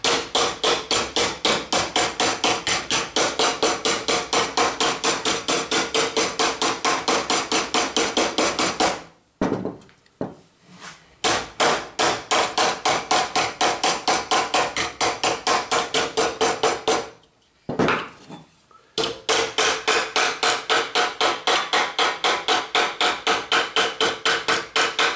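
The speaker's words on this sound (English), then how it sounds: "the rubber mallet or the wooden mallet is a little more forgiving" Rapid, steady mallet blows hammer an aluminum fender on a Land Rover Series 1 V8, loud and close, in long continuous runs broken by two short pauses.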